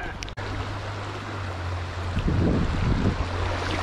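Wind blows outdoors as a steady, low rushing buffet, moderately loud and gusting slightly stronger toward the end, with a brief click near the start.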